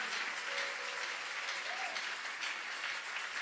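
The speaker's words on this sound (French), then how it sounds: "Tu acclames très fort pour Jésus." Steady, broad applause from a church congregation acclaiming Jesus during a prayer service, sustained and even throughout without a clear break.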